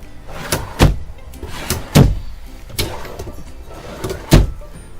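Storage drawers under the bed of a Forest River Micro Lite 21FRBS travel trailer slide and bump shut, several sharp knocks and thuds at irregular intervals over a quiet room background.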